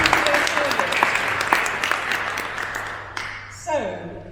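An AGM audience applauds departing committee members, a room of steady clapping that fades out, with a voice speaking over the applause.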